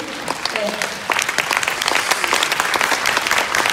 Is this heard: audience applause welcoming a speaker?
yes